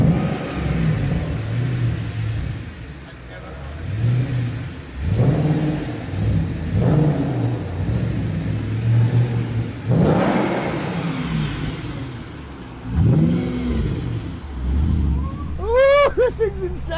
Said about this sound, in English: I drove the world's fastest shed today.